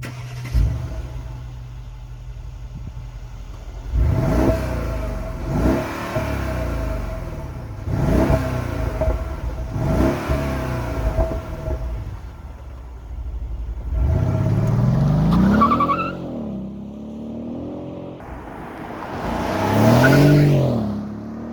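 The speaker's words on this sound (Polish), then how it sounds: "Ewidentnie słychać, że pod maską pracuje tutaj V8, jednak nie ryczy ona, raczej dostojnie sobie ten silnik pracuje." A 2012 Mercedes SL500 V8 engine revs up in several quick bursts, each rising then falling, followed by two longer, louder accelerations with a deep, throaty growl.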